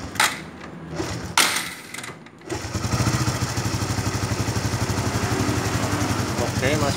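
A Honda Supra X 125 injection motorcycle engine starts after brief talk and settles into a steady, close, loud idle with an even rapid pulsing rhythm.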